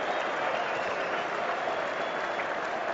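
A large cricket crowd at a one-day international in Leeds applauds and cheers in a dense, continuous roar that holds steady for the whole stretch.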